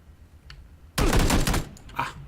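Gunfire in the video game PlayerUnknown's Battlegrounds: a loud burst of rapid automatic shots lasting about half a second, followed by a few fainter shots, with quiet background before.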